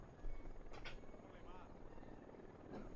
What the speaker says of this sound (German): Aktuell noch Unidad Heli.